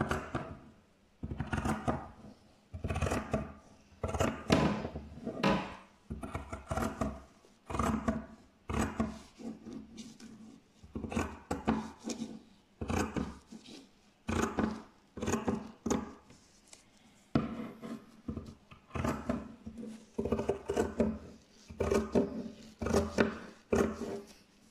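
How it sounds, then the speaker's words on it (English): Scissors snipping through fabric in quick repeated bursts, a steady rhythm of cuts with short pauses, close and fairly clear. "we'll be cutting it with these special scissors so it doesn't fray"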